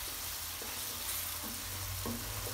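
Ground onion and tomato masala fries in hot oil, a dense steady sizzle with faint stirring clinks, close and alone with no talk.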